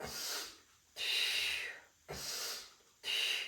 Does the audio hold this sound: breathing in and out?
yes